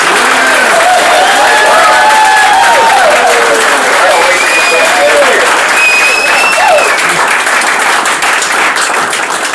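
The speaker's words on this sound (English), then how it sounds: "we're going to give you a great round of applause and say good night" Audience applause for retired US Army Major General Paul E. Vallely at a Willow Run Tea Party Caucus event, a loud, sustained wash of clapping from a crowd with scattered voices and cheers mixed in, steady throughout.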